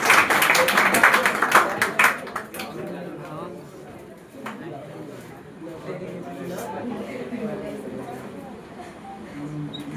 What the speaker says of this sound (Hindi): मधु पांडे के लिए जोरदार तालियां।